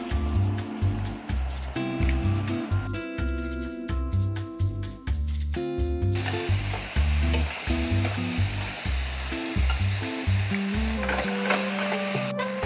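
Floured crab pieces fry in plenty of very hot oil, giving a loud, continuous crackling sizzle that swells partway through, with rhythmic background music playing underneath.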